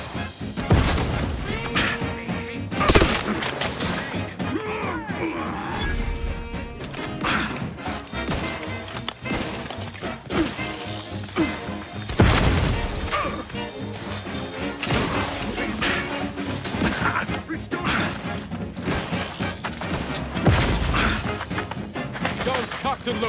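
Gunfire in the space shooter The Outer Worlds 2 cracks out in scattered loud bursts amid crashing impacts and game noise, with irregular shots spread throughout.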